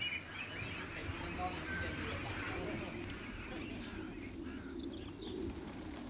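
Pigeons coo in a soft, steady stream of low calls against a constant murmur of farmyard poultry, with a few faint chirps above.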